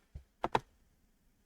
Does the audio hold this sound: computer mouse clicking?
yes